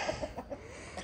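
Backyard chickens give a few quick clucks, close and moderately loud, in a brief burst of short rhythmic calls.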